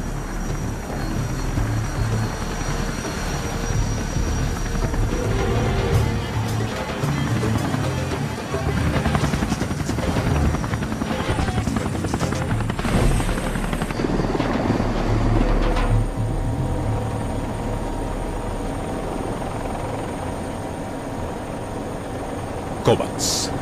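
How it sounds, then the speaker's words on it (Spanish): A helicopter's rotor and engine roar continuously throughout, loud and close, with people talking over it. "¡Comandante, su helicóptero!"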